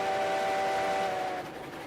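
A train running in Railroads Online: a continuous rumbling rail roll with a sustained tonal whistle-like drone on top, steady and fairly close, easing slightly near the end.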